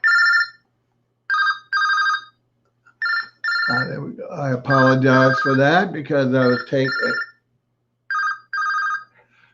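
A telephone rings in short, evenly spaced double bursts, loud and near, with someone talking over the middle rings before the ringing resumes alone.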